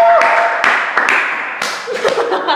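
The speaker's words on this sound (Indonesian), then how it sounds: "Tepuk tangan buat Kak Jasmine." An indoor audience claps for guest Jasmine at a BNET Talk show in Karawang, a few bursts of applause and light laughter heard under and between a host's lively speech.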